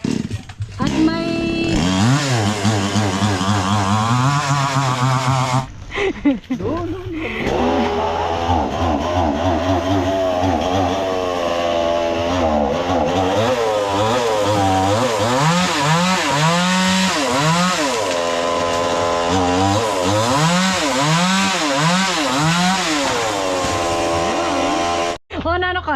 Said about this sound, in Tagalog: Ayan, mag-chainsaw na raw po si MY